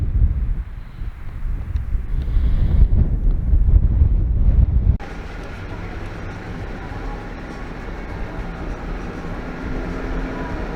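Strong wind at over 10,000 feet on Skyline Drive, Utah, roars and buffets against the microphone in heavy low gusts, then shifts abruptly to a steadier, thinner rush of air.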